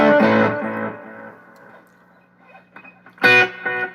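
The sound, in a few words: guitar with reverb and analog delay effects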